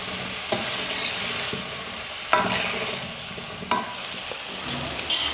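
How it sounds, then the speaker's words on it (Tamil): Chickpea masala curry paste with salt being sautéed in a pan for a Tamil kondakadalai kuzhambu, a steady close sizzle broken by a few sharp scrapes and clacks of a spoon stirring against the pan. "மசாலாலாம் சேர்த்ததுக்கப்புறமா குறைஞ்சது 2 நிமிஷமாவது நல்லா வதக்கணும்"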